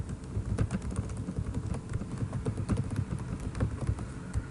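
Steady, rapid clicking of computer keyboard keys as a Perl print statement is entered, close and fairly quiet, with irregular bursts of keystrokes continuing throughout and no talk.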